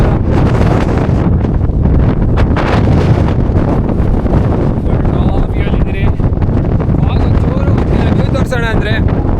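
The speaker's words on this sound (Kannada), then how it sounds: "ಗಾಳಿ ಅಂತೂ ಫುಲ್ಲು ಇದೆ, ಎಳಿತಾ ಇದೆ ಗಾಳಿ ಸರಿಯಾಗಿ ಎಳಿತಾ ಇದೆ" Strong wind batters the microphone on a foggy monsoon trek to Ethinabhuja, a loud, continuous roaring buffet, while people talk intermittently beneath it.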